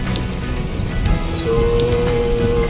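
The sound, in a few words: rain falling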